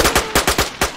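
Rapid gunfire in the video game DayZ: a burst of about six sharp, loud shots in quick, slightly uneven succession, close and without speech.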